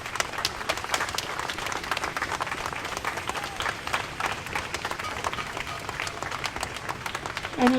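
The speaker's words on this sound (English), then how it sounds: "Let's give her another round of applause" Outdoor applause from a crowd gathered at a vigil outside the King County Courthouse, sustained, dense clapping at an even level for several seconds with faint crowd voices mixed in.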